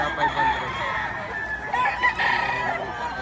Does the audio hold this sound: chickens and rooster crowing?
yes